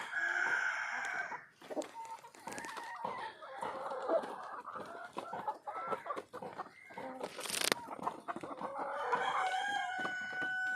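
A busy flock of chickens clucks and squawks close by, while a rooster crows partway through.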